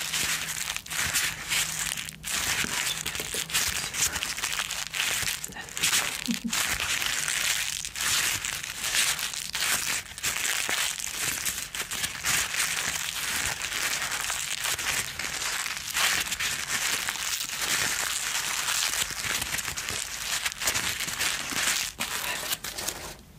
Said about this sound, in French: Des personnes qui aiment les sons de papier